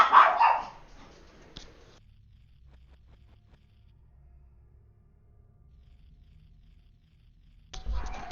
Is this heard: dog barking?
yes